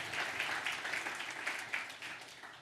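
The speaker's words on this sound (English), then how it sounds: "Let's actually give another round of applause for Kyle" A conference keynote audience at the Microsoft Edge Web Summit 2017 claps together in a sustained round of applause, with a few louder bursts rising and falling, no voices over it.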